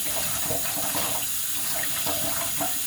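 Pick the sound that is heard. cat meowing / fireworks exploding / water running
water running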